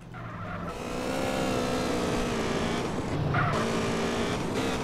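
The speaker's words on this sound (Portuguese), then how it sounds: "essa aqui é a melhor moto pra fazer os stunts" Motorcycle engine in GTA San Andreas, a stunt bike revving with a steady, loud drone that rises and dips slightly throughout, with a brief higher surge near the end, no voices present.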